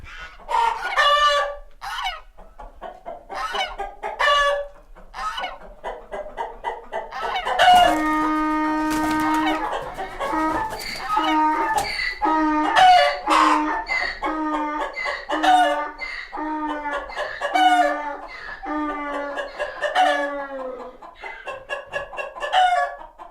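Hens cluck repeatedly in a busy, close chorus, and a rooster crows loudly partway through over the ongoing clucking.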